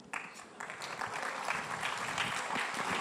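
Audience at the Ideas of India 2026 live conference applauding, a dense steady clapping that builds and holds at moderate loudness throughout.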